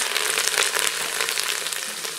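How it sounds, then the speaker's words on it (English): Celery and carrots browning on the brown setting of a pressure cooker give a continuous, fairly quiet crackling sizzle with small spits and pops, alone without talk. "We're going to throw in our celery and our carrots"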